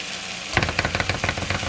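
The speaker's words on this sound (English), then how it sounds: "So now I'm going to add some garlic." Garlic goes into onions cooking in a pan for potato and ham soup. After a brief quiet moment a sizzle bursts up nearby, then continues with a rhythmic run of stirring scrapes and crackles.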